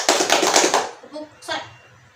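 Children speak in a chorus, followed by a few quick hand claps and a short burst of clapping.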